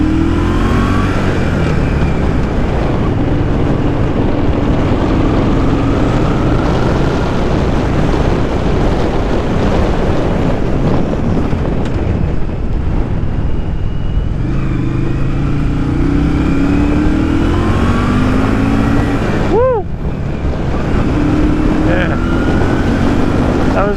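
1982 Yamaha Virago motorcycle accelerating hard in first gear, a loud continuous engine roar with rising pitch sweeps and heavy wind noise throughout.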